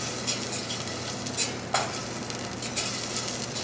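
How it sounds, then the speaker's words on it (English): Shallots sizzling in butter fat in a pan, a constant close hiss with light crackles and a faint clink, no voices. "So I'm going to put my shallots in here."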